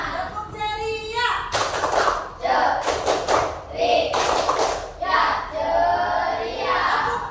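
A classroom of young children claps out a rhythmic chant, with sharp group hand claps in quick patterned bursts between their shouted chanting voices, close and loud.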